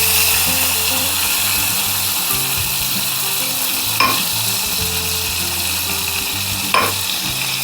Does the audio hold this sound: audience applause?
no